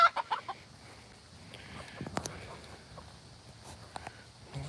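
Chickens and roosters clucking in a backyard coop, a few sharp clucks at the start followed by quieter scattered clucks and rustling, fairly close with no talk.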